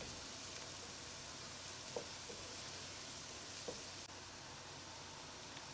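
Quail pieces frying in a pot for a royal Indian quail curry, a steady quiet sizzle with a couple of faint clinks from stirring.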